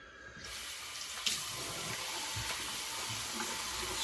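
Cold water runs steadily from a bathroom tap into a sink after a shave, a continuous close splashing hiss with a faint tap knock partway through and no talking.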